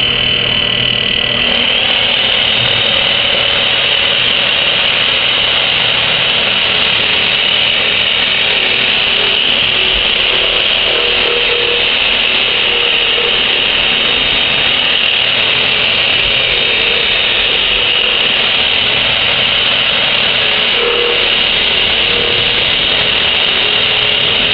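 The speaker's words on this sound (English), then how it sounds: "it's going to get a little noisy because I'm going to turn on the shop vac" A shop vac roars steadily alongside a drill-driven sanding block working on wood, a loud, unbroken high-pitched whine and hum lasting the whole stretch with slight grinding variations.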